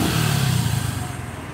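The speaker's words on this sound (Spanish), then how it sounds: "Pues el motor se escucha bien." A Bajaj Boxer 150 motorcycle that had stalled idles, then revs on a busy avenue, with a close, loud, low engine drone that swells briefly before easing into a steady throb.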